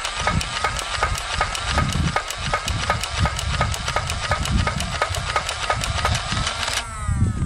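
A Nerf N-Strike Elite XD Rapidstrike motorized blaster fires darts in a fast, steady rattling stream over its motor hum, close and continuous, cutting off near the end.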